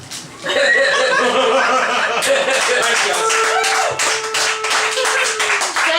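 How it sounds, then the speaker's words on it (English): A crowd claps loudly and steadily, mixed with laughter, chuckles and raised voices, while a held tonal note runs underneath the lively, dense applause. "Give them a round of applause."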